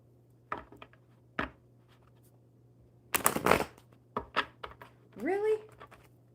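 Tarot cards being shuffled: a few soft riffles, then a dense crackling burst in the middle and scattered flicks after, over a low steady hum.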